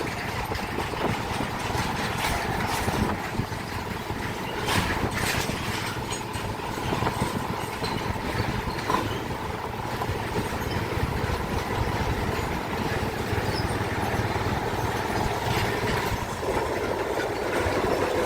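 A sugar mill train hauled by Hokuriku locomotive number 10 rumbles past with a steady engine drone and clanking railcar wheels, a continuous moderately loud mechanical noise with no speech.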